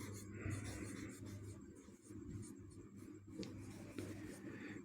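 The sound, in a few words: writing on a board during a lecture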